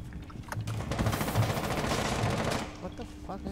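Rapid automatic gunfire in the Rainbow Six Siege video game, a dense sustained burst of shots loud and close for a few seconds, then tapering off, with players' voices faintly mixed in.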